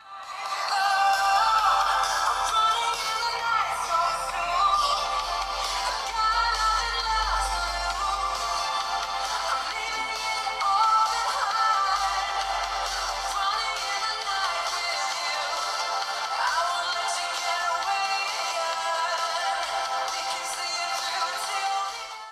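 Budget Leagoo KIICAA Mix phone speaker playing a ringtone-like tune, steady and fairly loud with a thin, tinny tone, continuous for about twenty seconds with no talking.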